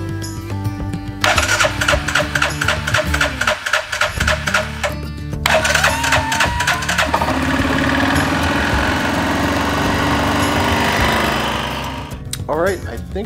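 An Arctic Cat ATV engine, newly fitted with a fuel pump assembly, cranks with rapid starter chugging, stalls briefly, cranks again, then catches and runs loud and close with a steady rough idle before fading.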